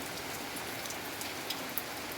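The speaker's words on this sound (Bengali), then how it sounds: "খুব বৃষ্টি পড়ছে" Heavy rain pours around a muddy village home, a steady broadband hiss with a few faint drop ticks scattered through it, constant and moderately quiet, with no voices.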